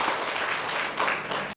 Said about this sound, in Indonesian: Beri tepuk tangan yang meriah buat Direktur Rumah Sakit Mokopido, Toli, Dr. Hayatul Mufus